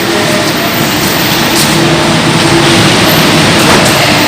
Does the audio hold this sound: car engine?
yes